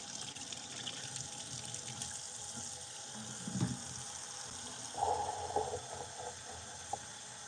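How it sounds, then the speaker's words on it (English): Tap water runs steadily into a kitchen sink during dishwashing, a continuous hiss with occasional clinks and splashes, fairly close and alone without talk. "Starting out my live with washing dishes again."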